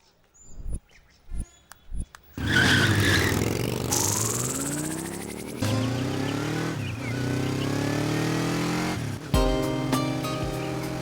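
Motorbikes in a Hindi-dubbed action movie scene rev up loudly and ride off, engine pitch climbing and falling in waves after a few sharp clicks and thuds at the start.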